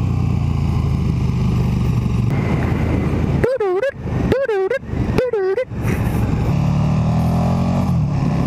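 A KTM 1290 Superduke motorcycle at riding speed gives a continuous engine drone mixed with wind noise, while a rider talks over it and a few brief tonal whistles rise above.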